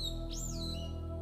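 A single bird chirps in an animated fairy tale, one clear rising and falling tweet over a steady low hum.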